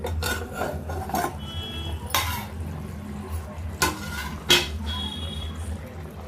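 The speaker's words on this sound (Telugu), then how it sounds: "ఇప్పుడు తిప్పుకోవాలి. జాగ్రత్తగా తిప్పుకోండి" Egg curry being turned in a pan, with several distinct scrapes and knocks of a ladle against the pan spaced irregularly over a quiet background, close and fairly loud.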